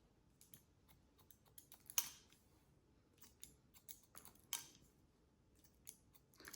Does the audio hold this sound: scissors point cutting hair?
yes